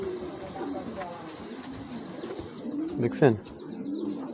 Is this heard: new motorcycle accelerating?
no